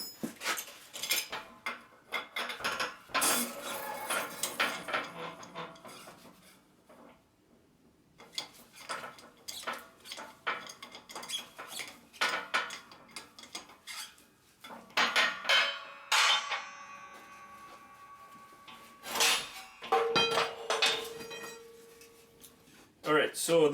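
A wheel bearing is pressed out of a steering knuckle with a press, producing irregular metallic clanks, ticks and clinks spread across the clip, while a person talks in between.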